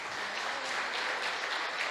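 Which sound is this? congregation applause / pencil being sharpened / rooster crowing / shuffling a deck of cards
congregation applause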